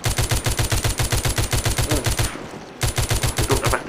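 Rapid automatic gunfire in The Walking Zombie 2 video game, loud, evenly spaced bursts with a brief pause in the middle before the firing resumes.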